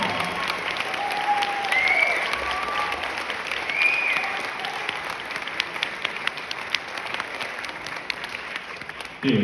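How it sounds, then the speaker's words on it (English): Concert audience applauds at a school jazz ensemble's spring show with a jazz trio, a dense, sustained clatter of many hands that holds steady for about nine seconds with a few brief whoops rising above it. "So give them a round of applause."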